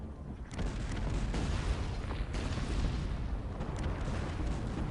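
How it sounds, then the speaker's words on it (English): Massed cannons fire in a 2v2 real-time strategy match, with several heavy booms at uneven intervals over a continuous rumbling battle din. "Those 20 cannons of Grant are doing huge impact."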